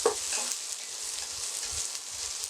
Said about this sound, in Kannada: ಈಗ ನಾನು ಈರುಳ್ಳಿ ಹಾಕೋತಾ ಇದ್ದೀನಿ. ಇದು ಕಲರ್ ಚೇಂಜ್ ಆಗಲಿ.